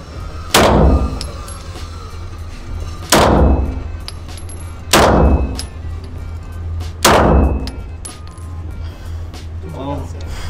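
Four loud gunshots ring out, evenly spaced about two seconds apart, each sharp crack followed by a brief echoing tail.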